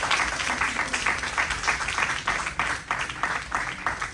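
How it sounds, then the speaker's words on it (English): An audience at a college morning session applauds a faculty member taking the dais, dense rapid clapping with uneven surges, moderately loud and continuous for several seconds. "Give him a big round of applause."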